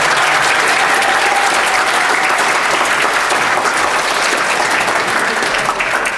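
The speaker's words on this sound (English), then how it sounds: "And they can all have a round of applause." Sustained, dense applause fills the House of Commons chamber at a UK Youth Parliament session, a loud and even roar of many clapping hands with no voices over it.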